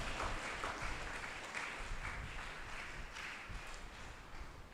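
A church audience applauds to honour a priest, a steady dense wash of clapping from many hands that carries evenly throughout at moderate, slightly distant loudness.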